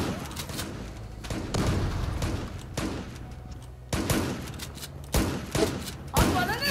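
Gunfire in the online shooter Zula comes as a series of sharp shots and short bursts spaced through the clip, loud and close, with a player's voice faintly in the background.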